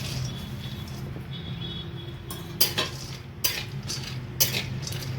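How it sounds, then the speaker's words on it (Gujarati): Almonds frying in ghee in a pan, a steady soft sizzle under a few sharp scraping clinks of a spoon stirring, close and clear with no talking. "બદામ નાખું છું ઘીમાં."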